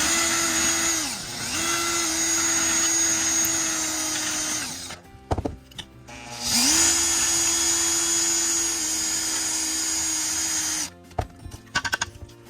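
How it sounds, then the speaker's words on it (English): A power drill with a bit cleaning up plastic on a 1/16 Bruder CAT skid steer model whirs in two long sustained bursts, revving up and winding down, with brief clicks and handling noises between. "take the drill with the drill bit on it, and I just clean this up."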